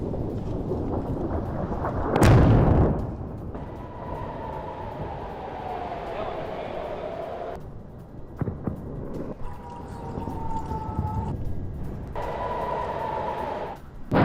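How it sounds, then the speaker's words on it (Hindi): A heavy, booming blast from an Israeli military bombardment bursts out early in news footage, followed by rumbling low noise and a wavering whine that continues to the end. "आईडीएफ की बमबारी के बाद भीषण विस्फोट।"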